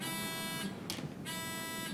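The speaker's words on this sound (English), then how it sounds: "Are your buzzers working?" A quiz bowl buzzer tested during a championship round sounds as a loud, sustained electronic buzz, two long tones with a short break between them, with no talk over it.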